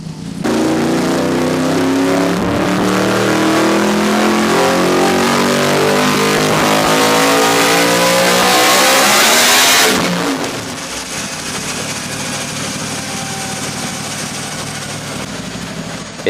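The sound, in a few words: Yamaha R1M motorcycle revving with titanium exhaust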